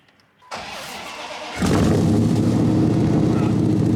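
A Dodge Dakota truck, unstarted for a year, cranks briefly with a whirring starter and then catches, settling into a loud, steady, rumbling idle close by with no voices over it.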